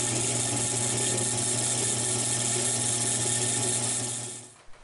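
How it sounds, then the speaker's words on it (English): A power drill with a drill chuck bores a 5/16 inch hole into the base of a wooden bottle stopper, a steady whining hum that runs continuously, then tapers off as the drill stops. "I use a drill chuck to drill a 5/16 inch hole in the base of the wood."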